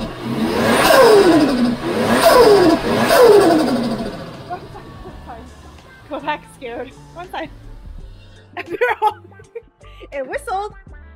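A Toyota JZX100 Chaser Tourer V engine, running rough, revs hard three times in loud surging pulses, then drops away as people talk close by.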